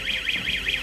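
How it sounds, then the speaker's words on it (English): An alarm bell rings at a looted shopping center, a loud, steady electronic tone pulsing in a regular warbling rhythm, heard alone. "Alarm bells still ringing at La Mesa Springs Shopping Center"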